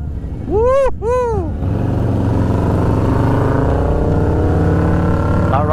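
Harley Stage 4 upgraded performance bagger motorcycle riding, its engine a loud, steady close roar after a brief whooping shout from the rider.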